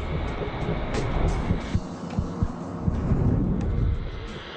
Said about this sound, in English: The heart is working normally, pumping blood through tens of thousands of miles of blood vessels.